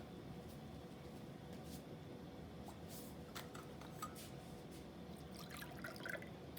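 Paintbrush swished and tapped in a jar of clean water during watercolor painting, with soft drips and small liquid splashes scattered over a quiet background, a few sharper clinks near the end, no talking.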